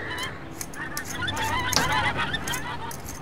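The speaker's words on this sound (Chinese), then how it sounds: "我怎么听见鹅叫啊？" Geese honk repeatedly at close range on a rural farm, a dense run of loud, overlapping nasal calls with a brief sharper cry near the middle.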